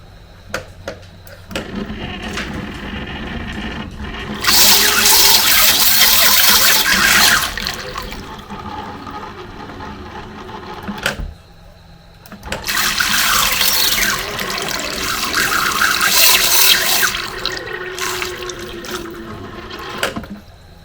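A small drone is dunked into water and lifted out, giving two loud rushing, splashing bursts separated by quieter dripping and handling sounds.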